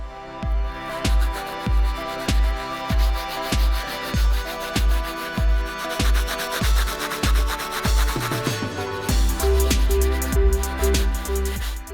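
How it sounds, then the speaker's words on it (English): Brass bristle brush scrubbing the soles of Air Jordan 2 sneakers in steady rhythmic strokes, about one per second, close and loud, turning faster and denser toward the end. "Now we're going to finish cleaning up the soles using the brass bristle brush."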